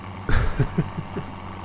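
A tractor engine in Farming Simulator 17 chugs briefly, starting with a low rev and then settling into a few rhythmic diesel pulses at moderate loudness, with no voices.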